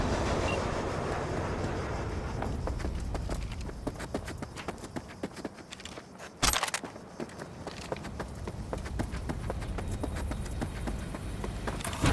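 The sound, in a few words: train departing in video game Cyberpunk 2077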